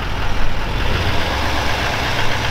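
A truck with a straight-piped 5.0 engine rumbles loud and close, a steady deep exhaust drone with slight pulsing and no speech.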